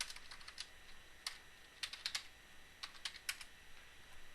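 Short bursts of crisp keystrokes on a computer keyboard as a command is typed at a command prompt, close and fairly quiet with brief pauses between clusters.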